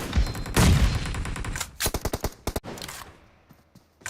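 Gunfire from the PUBG Mobile game in team deathmatch: a heavy opening blast, then a rapid burst of sharp shots and a few more, loud and close, trailing off into quieter game ambience with no talk.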